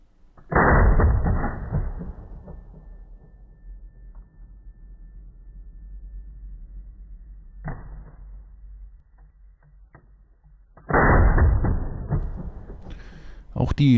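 A Vepr 12 AK-pattern shotgun fires shotgun shells with light loads: two loud, sharp blasts several seconds apart, each followed by a short decaying tail, with quieter handling clicks in between.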